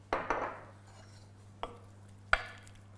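Sirloin steak being mixed with honey and sesame oil, giving a few sharp clinks and taps of utensil against a bowl, one cluster at the start followed by two isolated knocks, close and fairly quiet over a steady low hum.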